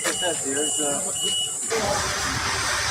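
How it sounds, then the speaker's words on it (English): Loud, high-pitched electronic beep sounding over someone talking during a live-streamed show, the shrill tone persisting behind his voice and continuing after the speech gives way to noisy background. "Jesus, that beep's loud."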